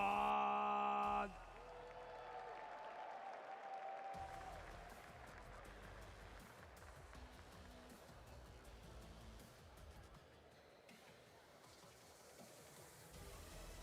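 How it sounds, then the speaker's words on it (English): A large crowd at the EVO fighting game tournament cheers and applauds loudly and continuously, with whoops rising over steady clapping after a brief burst of music at the start. "Keep it loud for Nobi!"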